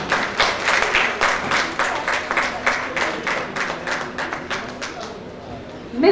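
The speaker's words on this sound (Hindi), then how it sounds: "जोरदार तालियां गोपाल पहाड़िया जी के।" Audience applause at an NGO welcome event honoring a social reformer, a room of hands clapping with a steady rhythm that rises and falls in waves and continues throughout, with voices mixed underneath.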